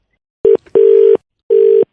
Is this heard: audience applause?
no